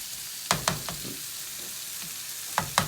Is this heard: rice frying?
yes